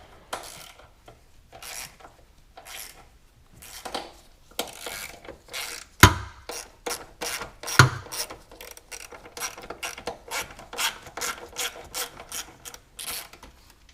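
A ratchet works over-tightened bolts on a BMW E70 X5 during oil pan gasket and subframe work, giving bursts of quick clicking with pauses, plus a couple of sharper metallic knocks, close and alone.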